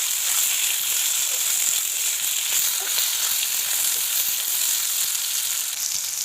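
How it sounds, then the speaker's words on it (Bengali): Onion and potato frying together in a pan for a Bengali bean curry, a steady, even sizzle and hiss throughout with occasional faint stirring, no talking. "এবার পেঁয়াজ আর আলুটা দুটো একসাথে আমি ভেজে নেব।"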